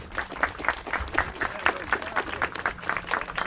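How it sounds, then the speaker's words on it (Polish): A crowd claps at an outdoor commemoration ceremony in Dębowiec honouring parachute drop organisers, with steady, moderately loud applause and a few faint voices underneath. "Wielkie brawa dla nich."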